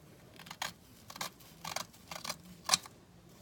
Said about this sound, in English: I'm going to use my bigger scissors because it's easier.